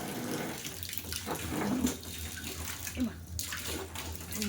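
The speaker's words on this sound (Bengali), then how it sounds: "গাছ লাগানো হয়ে গেছে এখন গাছে জল দিচ্ছি এই যে সব গাছে এখন জল দেবো জলের আওয়াজ" Water runs steadily from a tap or hose while plants are watered, a continuous close splashing rush that stays level throughout, with no voice over it.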